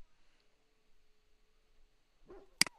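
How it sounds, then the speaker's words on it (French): A dog in the game Dragon Age: Origins gives a short whimper followed by a single sharp bark near the end, after near silence. "Arrête d'aboyer, putain."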